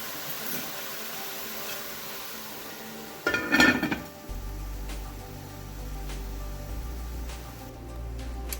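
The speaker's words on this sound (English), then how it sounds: "I'm going to go ahead, guys, and cover my pot" A metal lid clatters onto a pot of Jamaican-style callaloo rice with a brief clanking burst, followed by a low steady simmering hum.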